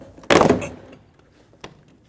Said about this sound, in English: We're going to pop the door panel off of the door.